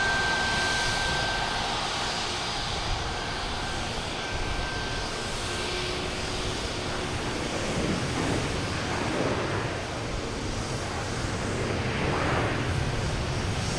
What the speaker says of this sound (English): We got a Delta coming in from Cancun, 737-800,